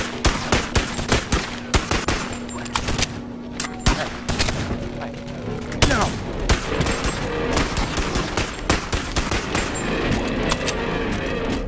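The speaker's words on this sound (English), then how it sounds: "We're gonna use pistol for a little bit." Rapid pistol shots from a handgun in the VR game BoneLAB, crackling in dense bursts over most of the stretch with a steady hum underneath, loud and close.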